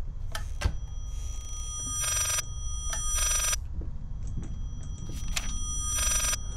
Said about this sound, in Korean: 전화기.